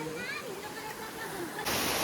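A river flows as a steady broadband rush, with a voice speaking over it and a louder surge of water noise near the end.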